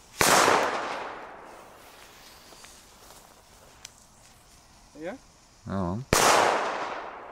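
Two sharp, loud firecracker bangs, one at the start and one near the end, each with a bright crackling tail; a few brief voices murmur between them.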